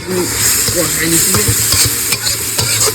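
Curry gravy with ground cumin, coriander, turmeric, chilli and pepper boils and sizzles in a pan while a spoon stirs it, giving a steady bubbling hiss broken by repeated scraping and knocking strokes, close and fairly loud.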